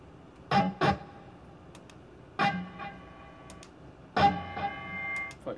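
A clean electric guitar tone from a 2016 Chibson Les Paul Standard copy, pickups in split-coil mode, rings out as three separate plucked chords or notes. Each is struck sharply and decays over a couple of seconds, close and fairly quiet, with no talking.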